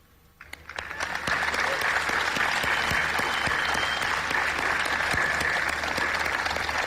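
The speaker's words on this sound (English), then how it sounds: "Keep clapping, come on." An audience at the One Young World Summit 2015 in Bangkok breaks into applause, starting with a few claps and swelling within a second into sustained, loud, dense clapping.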